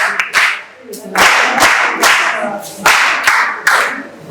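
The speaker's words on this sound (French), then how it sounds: "Applaudissez pour moi." An audience claps at a ceremony, with bursts of applause rising and falling in a fairly regular rhythm, loud and close throughout.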